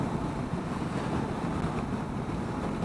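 Steady broadband wind rush while riding a 2015 Honda CTX700 DCT ABS motorcycle, a constant roar with no distinct peaks, fairly loud and continuous throughout, with no talking.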